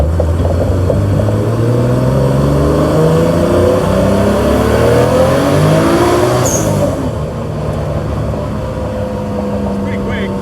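A Nissan R32 GTST with an RB22DET engine revs and accelerates up through the gears, the engine note rising loudly and close inside the car while someone talks over it.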